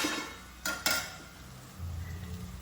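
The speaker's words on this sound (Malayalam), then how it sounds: "ഒരു പ്രാവശ്യം ഇളക്കിയിടാം" A spoon stirs cauliflower in a pan that has started to stick on the bottom. There are two brief scraping clinks, followed by a soft, steady sizzle, close by and with no voices.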